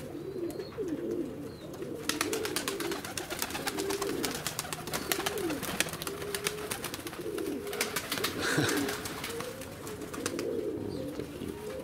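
Mozdok and Leninakan pigeons coo softly outdoors in repeated low, rolling calls, layered over a busy patter of quick clicking sounds through most of the stretch.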